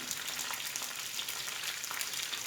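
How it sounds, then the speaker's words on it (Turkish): Peppers and large sliced tomatoes frying together in a pan, a soft, even sizzle with faint popping throughout, quiet and close with no voices. "biberlerim biraz kızardıktan sonra böyle büyük dilimli domatesler ekliyorum"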